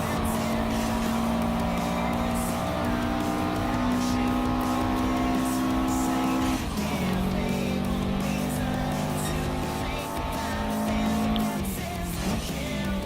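A 2010 Ford F-150 Raptor pickup races in Gran Turismo Sport, its engine droning loud and steady with gear shifts and shifting revs throughout.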